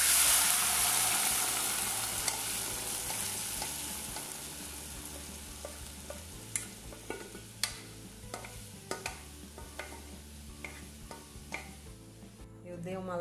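Steady sizzling and frying of beans in a pan, with scattered sharp clicks and taps of a utensil stirring against it.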